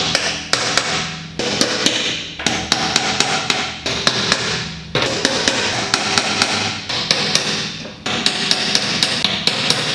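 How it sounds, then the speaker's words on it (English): Sharp metallic hammer blows on a punch against metal, struck in quick clusters of several taps with brief pauses between, loud and close. "hit every single one of those with a center punch"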